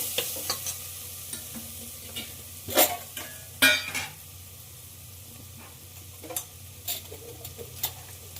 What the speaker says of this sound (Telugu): క్యారెట్ ఫ్రై అవ్వడం కూడా స్టార్ట్ అయిపోయింది